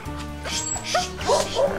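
A dog on a hillside where shepherds are searching for a lost sheep gives a few short, high yips and whimpering barks, close by and fairly loud over a steady background rumble.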